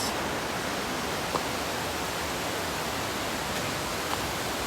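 Waterfall near Valencia, Negros Oriental, a dense unbroken roar of falling water filling the whole clip evenly, steady and loud with no talk.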